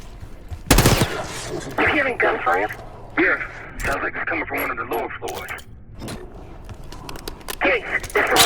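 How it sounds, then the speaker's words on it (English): Bursts of gunfire echo through a building in Call of Duty Black Ops 6, a sharp loud crack followed by intermittent rattling shots, heard beneath and between radio-style dialogue between characters. "You hearing gunfire?"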